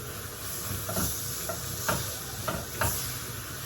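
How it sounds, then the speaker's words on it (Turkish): Chopped onion sautés with tomato paste in a pan, a soft, low sizzle broken by a few scraping spoon strokes at uneven intervals. "Soğanla birlikte hepsini güzelce kavuruyoruz."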